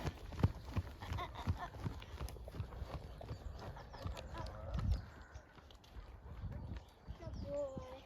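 A 16-hand-plus horse being ridden clops along in a steady, fairly close hoof rhythm, with a rider talking over the footfalls.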